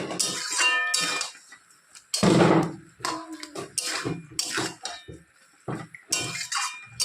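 A spoon clinks and scrapes against a cooking pan while stirring spinach cooked with lentil dumplings (dal bori) just after a little sugar is added, giving irregular bursts of metallic clatter with short pauses between strokes.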